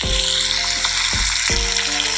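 Sea fish sizzles loudly in a hot pan of oil, a steady dense crackle with a couple of dull clunks as pieces are placed or shifted.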